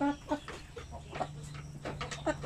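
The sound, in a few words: chickens on a poultry farm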